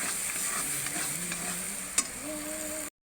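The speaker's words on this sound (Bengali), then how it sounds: "আর দিয়ে দিলাম টমেটো কুচি, লঙ্কা গুঁড়ো, হলুদ গুঁড়ো। ওর মশলা ভালো করে কষে নেব।" Chopped tomato, chilli powder and turmeric fry and get stirred in a masala, a close, steady sizzle with spoon scrapes and one sharp knock midway before the sound cuts off abruptly.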